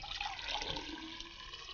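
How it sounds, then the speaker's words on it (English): Red liquid is poured from a container into a laboratory cylinder, giving a continuous splashing trickle that stays fairly steady through the short stretch, with no voices. "I'll just pour some into this cylinder"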